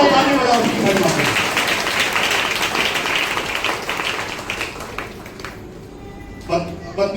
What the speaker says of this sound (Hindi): जोरदार ताली बजाओ उसकी महिमा के